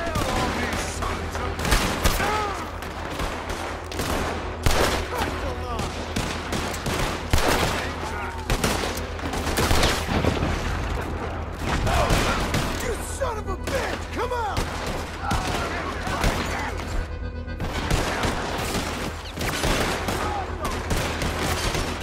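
Gunfire in the Western video game Red Dead Redemption 2, with dense, continuous volleys of rifle and pistol shots crackling for over twenty seconds, some loud and close, others overlapping in rapid bursts.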